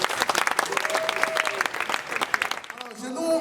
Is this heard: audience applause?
yes